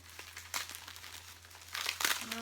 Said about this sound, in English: this is my rather gigantic pile of ponies that I'm going to be unwrapping today